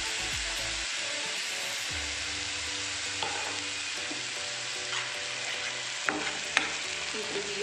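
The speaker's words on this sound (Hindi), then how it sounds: "इसे भी अच्छे से मिक्स करूंगी। इसे मुझे अच्छे से फ्राई करना है।" Tomato paste stirred and fried in a pan while making egg keema: a steady close sizzle with repeated scraping stirs, no voices.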